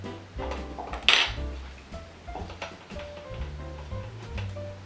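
Egg yolks for a bourbon fruitcake slide into a bowl with soft wet plops, a sharp clink of the dish near the start and a few light knocks of bowl and utensil, close and fairly quiet.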